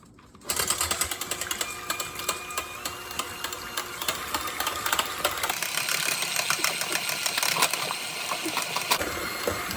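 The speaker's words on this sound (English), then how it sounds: "Instead of using my stand mixer, I'm gonna just use my hand mixer." An electric hand mixer runs in a clean stainless steel bowl, a continuous close mechanical whir with a slight change in pitch partway through, steady and loud throughout.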